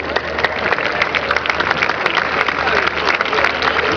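Open-air crowd at a havaneres singing event on the coast applauding and cheering, dense, loud clapping throughout with scattered shouts mixed in.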